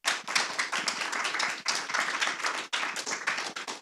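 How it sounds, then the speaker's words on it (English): A small workshop audience claps steadily for a few seconds, the applause close and fairly loud with brief dips in between. "Can I get a round of applause, please?"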